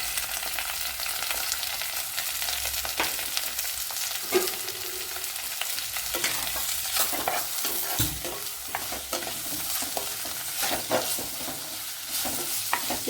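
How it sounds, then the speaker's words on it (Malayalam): Sliced onion and tomato sautéing with fenugreek seeds in hot oil for a fish curry, a steady close sizzle and frying crackle with repeated stirring scrapes throughout, no voices. "ഇവിടെ നമ്മുടെ ഉലുവയൊക്കെ ചൂടായിട്ടുണ്ട് അതിലേക്ക് വലിയൊരു സവാള കട്ട് ചെയ്ത് ചേർത്ത് കൊടുക്കാം"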